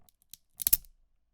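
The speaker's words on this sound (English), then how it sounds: "snapping a drumstick in half" A wooden drumstick snapped in half for use as a drum sample: one quick, close cracking burst of splintering lasting under half a second, with a small tick just before, then silence.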